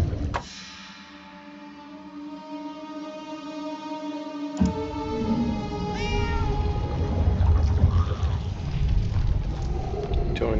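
A cat meows a few times in the video game Murdered: Soul Suspect over a steady droning game soundtrack with a low rumble, the cries drawn out and fairly close.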